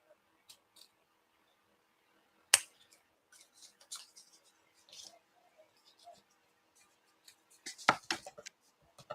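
Scissors trimming craft paper for a handmade card, a few sparse snips and rustles at close range in a quiet room, with a sharp cut early and a cluster of cuts near the end.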